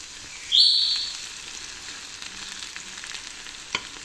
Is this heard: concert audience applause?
no